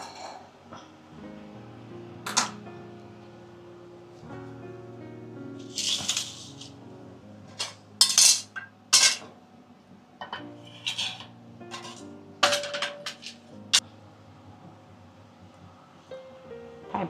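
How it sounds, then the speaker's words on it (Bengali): A frying pan is set down on a home kitchen stove amid scattered metallic clanks and clinks of cookware and utensils, heard close with quiet stretches between the knocks. "ফ্রাই প্যানটা বসালাম।"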